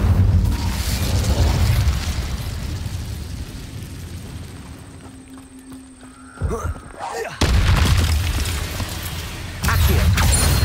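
Fire spell bursts in Hogwarts Legacy, cast as a flaming blast with whooshing booms over a steady, busy game soundscape; a sharp pop lands near the middle before the loud bed of effects returns.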